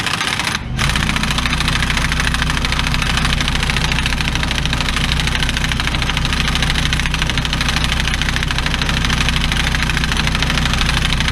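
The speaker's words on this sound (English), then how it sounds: "Now put it on your lowest setting if you have an air hammer." An air hammer on its lowest setting gives a steady mechanical drone with a rapid, buzzing rattle, running continuously after a brief pause at the start, loud and close, while working on a Chevy Trailblazer front bearing.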